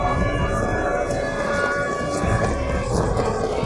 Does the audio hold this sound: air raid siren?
yes